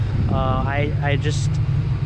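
A cammed 4.6-litre Ford Mustang GT driving, its engine a steady low rumble throughout, with a person talking over it.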